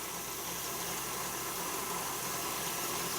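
An electric mixer whips eggs and sugar with a steady, continuous whirring drone that stays at one even level throughout.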